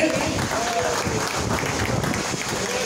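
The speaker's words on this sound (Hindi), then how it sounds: "लिए जोरदार तालियों से स्वागत करें।" A crowd at a BJP party gathering in Delhi gives an official a brief, continuous burst of clapping, loud and close, with some voices mixed in.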